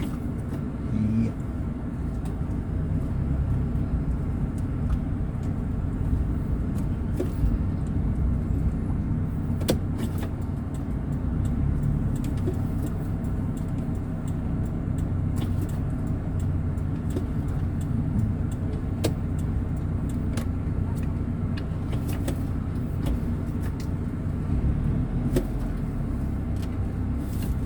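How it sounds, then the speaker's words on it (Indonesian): A water tanker truck idles and pulls away to fetch water, a steady low engine rumble heard close and continuous, with scattered clicks and knocks over it. "mobil tangki mau pergi isi air"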